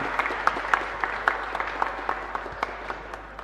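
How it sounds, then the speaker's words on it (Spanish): Congregation at a Catholic Mass in a chapel gives a round of applause, fairly faint and distant, with distinct claps in a steady rhythm over a low hum. "Le vamos a decir muchas gracias con este fuerte aplauso que le vamos a brindar a ellos."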